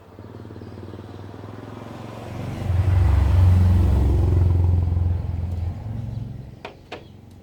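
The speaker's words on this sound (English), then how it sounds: "And now here comes a motorbike." A motorbike engine rumbles nearer, swells to a peak and fades as it passes along the road, followed by a couple of sharp clicks.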